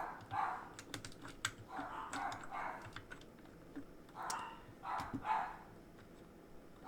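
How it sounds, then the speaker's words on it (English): Dogs bark in short bursts at a distance, mixed with clicking keyboard typing close by. "Sorry, my dogs are barking."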